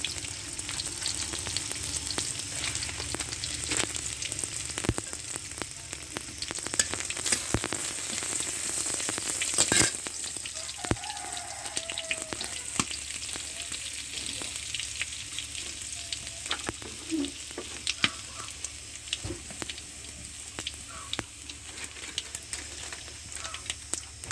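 Panch phoron whole spices crackling in hot oil for stir-fried greens, a continuous dense sizzle with scattered pops and occasional utensil clicks, close and steady throughout with no talking.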